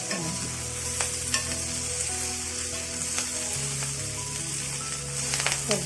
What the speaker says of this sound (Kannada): ಸೊಪ್ಪು ಹಾಕಿದ ಮೇಲೆ ಚೆನ್ನಾಗಿ ಬಾಡಿಸಿ